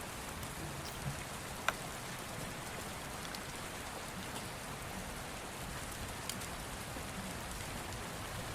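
Steady rain ambience plays during a tabletop RPG session, a continuous wash of falling rain with a few faint drop ticks, no voices over it.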